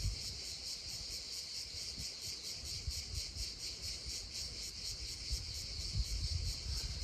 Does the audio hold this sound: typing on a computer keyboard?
no